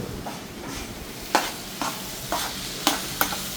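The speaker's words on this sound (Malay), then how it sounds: "Okay guys, asyik memasak telah pun bermula." Food cooks in a pan at a practice session before a cooking contest, a low continuous sizzle broken by several sharp scrapes and stirs, close and moderately loud, with no speech.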